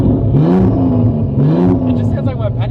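Turbocharged SOHC Ford Fairlane engine revving hard in two rising pulls from inside the car, loud and close, with people talking over it.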